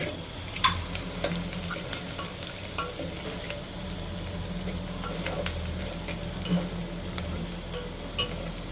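Onions and chicken masala spices fry in oil for a chicken dish, a steady sizzle with regular scraping taps of a spoon stirring the pan, no voices.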